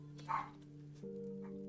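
Pet dog barking once indoors, a short, fairly faint woof over a steady electronic hum, with a second softer yelp near the end.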